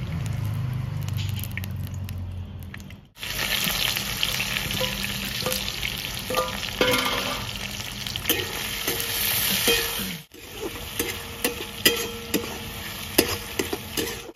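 Oil crackles and sizzles in a pan for a Rajasthani chicken curry, a dense close hiss with a brief drop before it surges again, joined by small popping spatters and a few utensil knocks.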